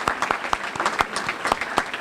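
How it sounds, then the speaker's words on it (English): An audience at a volunteer fire and rescue association awards ceremony applauds fire prevention ambassadors. The clapping is sparse and uneven, with distinct individual claps from a modest crowd at moderate distance. "let's give our fire prevention ambassadors a round of applause"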